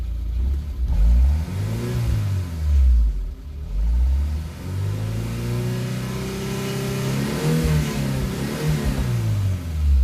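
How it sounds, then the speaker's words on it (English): A parked car's engine revs up and down in several swelling pulls, loud and close, the pitch rising and falling with each rev before settling into a steadier drone. "If I rev it up"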